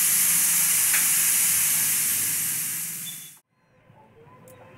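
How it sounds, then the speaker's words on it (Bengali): A faulty pressure cooker lets out a loud, continuous close hiss of escaping steam for about three seconds, fading and then cutting off into quiet room noise. "এই কুকারটা খারাপ হয়ে গেছে, এখানে মাঝে মাঝে একটু হিলিয়ে ওকে আওয়াজ দিতে হয় সিটি মারার জন্য।"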